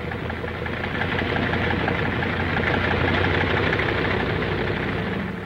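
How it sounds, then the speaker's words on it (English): Military aircraft engines warming up before dawn on a wartime Alaskan airfield ringed by mountains, a steady droning rumble with a throbbing mid-range roar that stays constant and fairly close, with no voices. "The sound of the engines warming up starts before dawn, echoing back from the mountains that flank the field."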